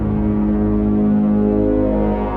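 Harp bass strings run through a Tars fuzz and a JHS octave reverb pedal, giving a thick, droning, distorted low tone with layered overtones that swells steadily and sustains throughout.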